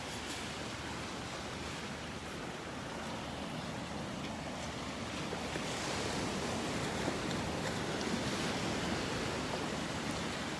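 Ocean waves rolling onto the beach in North Naples, Florida, a dense, continuous wash of surf noise that swells slightly louder partway through, with no voices.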